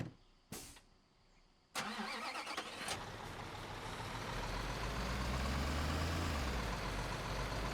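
A lowboy truck in Construction Simulator 2015 starts up: a couple of sharp mechanical clicks, the starter cranking, then the engine catches and settles into a loud, steady, growing rumble.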